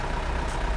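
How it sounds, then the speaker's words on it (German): A Mercedes 508 van engine idles, a steady low rumble that is close and continuous with no voice over it. "Der Motor läuft, wir schalten ihn jetzt gerade mal lieber nicht aus"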